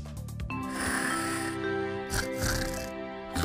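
Loud, close snoring in a snoring spray commercial: deep rattling breaths repeating in a slow rhythm with snorting bursts, set against a soft musical backing.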